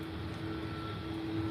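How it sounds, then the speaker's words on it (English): A Vueling Airbus A320 from Barcelona lands at Faro Airport, its engines a steady distant roar with a faint whining hum, low and continuous with no talking. "So that's the plane landing now."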